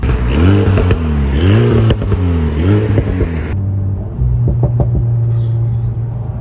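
An Alpine A110S sports car engine revs hard through repeated upshifts, each gear rising in pitch then dropping, loud and close from inside the cabin, before settling into a steady drone.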